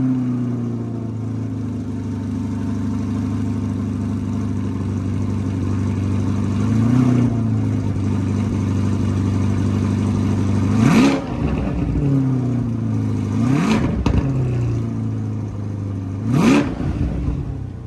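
A 2023 Chevrolet Corvette Stingray's mid-mounted 6.2-liter engine idles loud and close inside a dealership, then gives three sharp revs in quick succession.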